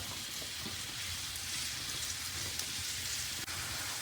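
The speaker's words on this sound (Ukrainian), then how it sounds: "Додали трошки оліки і будемо обсмажувати цибулю, чесник і морку." Chopped onion and garlic fry in a little oil in a pan, giving a faint, steady sizzling crackle with no voices.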